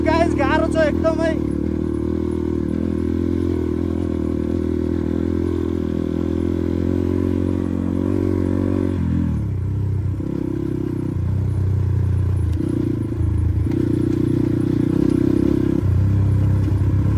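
A motorcycle is pushed along a rough mountain trail at Balangra Lek in Dolpa, its engine droning steadily and close throughout, with a brief voice near the start and loose rattles mixed in.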